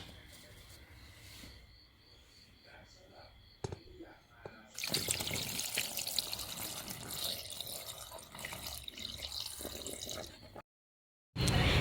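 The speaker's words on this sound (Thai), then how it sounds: "เดี๋ยวเราจะเทเข้าไปในทัพเปอร์แวร์ ผักของเรานะคะ" Starchy pickling liquid for homemade pickled greens pours steadily into a Tupperware container of vegetables, a continuous splashing gush lasting several seconds that stops abruptly, with a quiet voice nearby.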